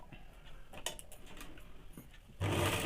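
A sewing machine stitches men's underwear fabric, ticking faintly in short bursts before breaking into a louder, steady whirring run near the end.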